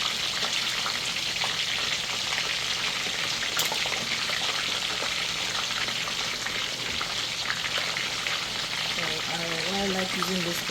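Loud, continuous sizzling and crackling of turkey frying in hot oil in a big pot, a dense steady bubbling hiss with scattered pops throughout.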